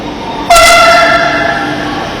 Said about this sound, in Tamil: ட்ரெயினும் வந்துடுச்சு.